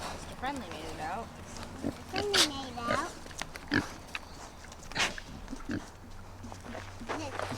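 Pigs on open pasture grunt and oink close by, with scattered short snorts and squeals spread through the stretch and a faint voice at times.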